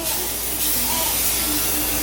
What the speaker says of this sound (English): we're basically just using some Pam spray